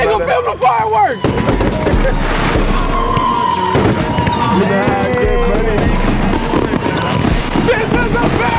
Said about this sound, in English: We got fireworks in the backyard!